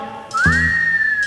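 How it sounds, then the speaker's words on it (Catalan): A single human whistle given as a signal, close and clear: a quick upward swoop into a long, steady held tone lasting about a second. "fes-me un xiulet."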